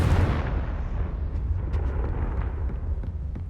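A Confringo blasting spell detonates in the Hogwarts Legacy video game, a loud booming burst that opens the clip and then rumbles on as a dense, sustained low roar with scattered crackles.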